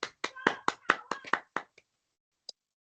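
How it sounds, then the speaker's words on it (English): Scattered applause for a speaker at an online African conference: about eight hand claps in quick succession over a second and a half, then a lone soft clap after a pause, close and clear with no voices. "we need to give Dr. Ejidike another round of applause"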